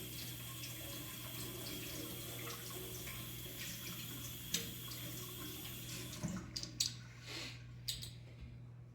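Water runs steadily from a tap as a container is rinsed out in a home kitchen while making deer jerky, the flow continuous and then broken by a few clattering knocks near the end.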